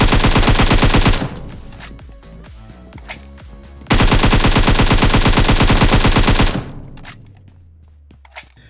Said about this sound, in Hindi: तो यहाँ पर दूसरे बंदे को मैंने मारने के लिए गोली चलाई थी